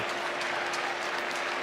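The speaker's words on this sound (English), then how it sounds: "A round of applause from the Gator fans in attendance." Gator baseball fans at a college ballgame applaud after a diving catch on the warning track, a steady, dense wash of clapping from the crowd throughout, heard from a distance.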